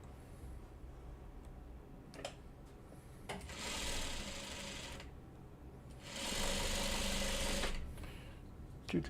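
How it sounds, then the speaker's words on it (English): Sewing machine stitching a corner piece onto a Buckwheat quilt block, two steady whirring runs of about one and a half seconds each separated by brief clicks and handling noise, close and fairly quiet. "I'm gonna sew this corner piece on now that I can."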